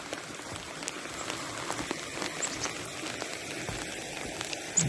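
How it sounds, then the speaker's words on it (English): Steady patter of rain and sleet falling outdoors on a winter morning near a brook and marsh, a soft continuous hiss with scattered small drop ticks, fairly quiet and even throughout. "It's a rainy, sleety morning."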